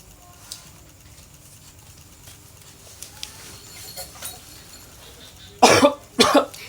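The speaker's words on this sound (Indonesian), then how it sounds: "ini adalah contoh batuk yang benar" Two loud, close coughs into a face mask near the end, following several seconds of quiet room noise with faint scattered clicks.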